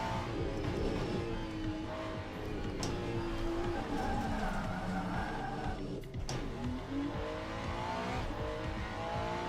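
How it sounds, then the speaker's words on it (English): A GT3 race car engine drones steadily in the Le Mans Ultimate or iRacing driving sim, with a brief tire skid squeal, while a voice talks faintly over the game audio. "That was a nice skid sound as well there, actually."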